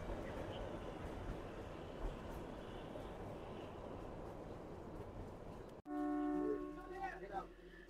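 A Kalka–Shimla toy train on the mountain line through pine forest in February snow, its steady rumble and rattle running continuously at moderate level, then cutting off abruptly near the end to a quieter, tonal interior with faint talk.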